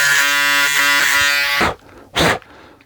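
A Braun Series 7 360° Flex electric shaver running in trimming mode, a steady close, loud buzzing drone that cuts off abruptly, followed by a short burst of noise.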